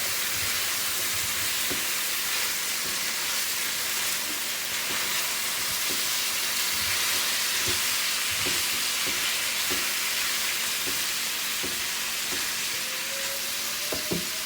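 Red skin potatoes with basil sautéing in a pan, a dense, steady sizzle with occasional soft pops and light stirring knocks, continuous and close with no voices.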